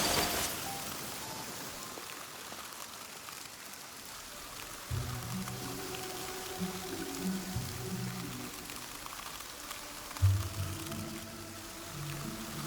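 Rain falls in Genshin Impact as a steady, soft hiss of faint, even patter throughout, with low musical tones swelling beneath it after a few seconds.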